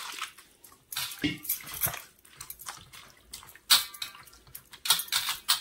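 Farm vegetables are washed by hand in water, making irregular close splashes, drips and light knocks against a vessel in short bursts with brief pauses between.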